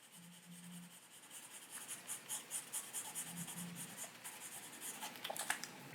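A colored pencil scribbles loosely on paper, laying down a purple strand of hair with quick, rhythmic back-and-forth scratching strokes that grow busier toward the end, close and fairly quiet.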